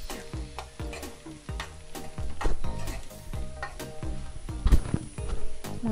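A spatula scrapes and clinks against a pan while chopped capsicum and onions sizzle in hot oil, with repeated stirring strokes in an uneven rhythm, close and clear, with no talking.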